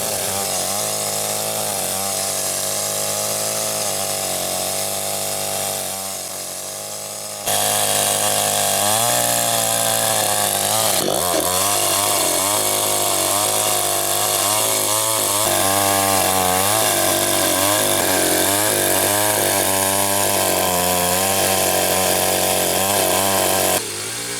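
A chainsaw drones steadily and loudly through teak wood, its engine pitch rising and dipping as the cut deepens, continuous with no talking.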